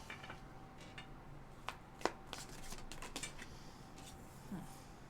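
Tarot cards are shuffled in quick, soft riffles and taps, several short bursts close to the microphone in a quiet room.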